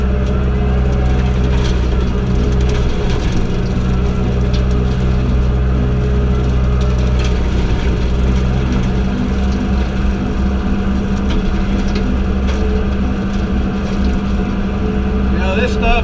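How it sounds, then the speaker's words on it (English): A New Holland tractor pulls a bush hog mower through brush with a loud, steady engine drone and mower rumble, and a voice talks over it. "But bush hog will do this stuff up pretty good, as long as it don't get no bigger than about 2 inches."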